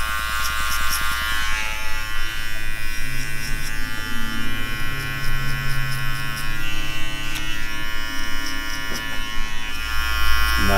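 Electric hair clippers buzz loudly and continuously at close range during a buzz cut, blending with a half guard before going down to skin.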